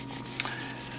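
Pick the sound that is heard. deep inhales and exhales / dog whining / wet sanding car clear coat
wet sanding car clear coat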